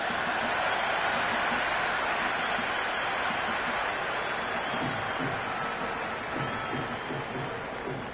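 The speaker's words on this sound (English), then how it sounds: "There's an almost tangible fervour throughout the crowd at the moment." A stadium crowd in the Cricket 26 video game roars and applauds steadily throughout, a dense, continuous wash of cheering at fairly loud level with no break.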